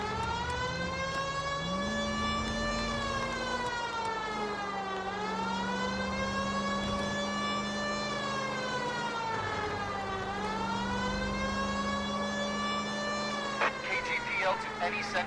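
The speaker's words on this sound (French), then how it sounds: "J'avais la sirène." Wailing police car siren in the video game L.A. Noire, loud and continuous with rising and falling sweeps over a low engine hum, steady throughout.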